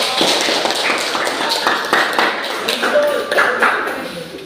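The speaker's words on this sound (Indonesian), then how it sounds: "kita berikan tepuk tangan untuk kelompok" A classroom group claps for presenting students, an uneven patter of hands clapping close by and fairly loud, with scattered sharper taps and some voices mixed in.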